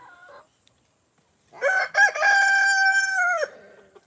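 A rooster crows once in a long, loud, harmonically rich call, preceded by a brief murmur of a voice and then quiet, with the crow ringing out near and clear for about two seconds.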